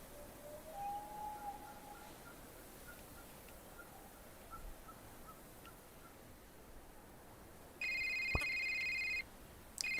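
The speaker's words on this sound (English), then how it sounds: "Phone call. Cell phone reception." A cell phone rings in the video game A Cozy Climb: a steady electronic ring tone sounds once for over a second, loud and clear above a quiet, hissy ambient background.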